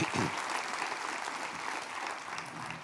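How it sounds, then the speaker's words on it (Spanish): A church congregation at a Sunday communion service applauds, a continuous wash of clapping heard at moderate distance, steady and even throughout. "dale un aplauso al Señor"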